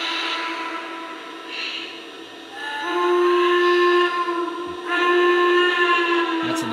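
A Lionel model train steam whistle on an N&W Class A 1210 sounds in several long, tonal blasts of changing pitch, clear and fairly loud, with no talking.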